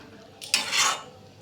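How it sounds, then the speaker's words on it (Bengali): Cauliflower and potato stir-fried with spices for a royal-style cauliflower dish: a short metallic clank of a utensil against the pan followed by a brief swelling sizzle, then quiet, with no voices. "এবার এর মধ্যে ফুলকপি আলুটা দিয়ে আর একটু কষিয়ে নেব।"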